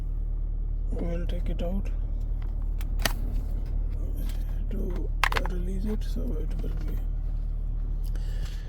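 A 2019-2024 Toyota Corolla engine idles with a steady low hum that runs continuously beneath a person talking nearby.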